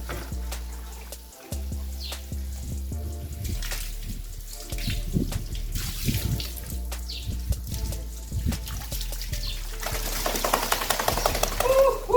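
Warm water runs from a tap while a dog is washed at home, a continuous splashing gush that shifts in texture as the flow hits fur and basin, close and steady.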